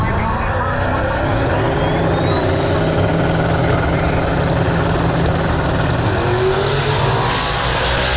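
First-round small tire elimination drag racing at Street Car Takeover in Oklahoma City. Race cars make a constant loud engine roar with a rising whine as one car pulls away, and faint voices are mixed in.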